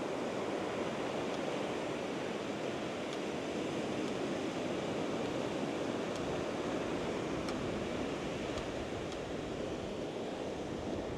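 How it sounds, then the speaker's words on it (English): Ocean waves break on a beach in a continuous, faint, hissing wash of surf, with no voices. "I've got some nice size waves coming in"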